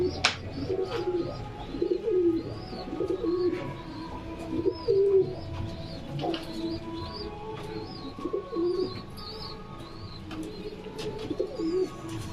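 Pigeons of several breeds coo steadily in a loft, with soft repeated throaty calls overlapping close by, some chirps in the background and occasional wing flutters.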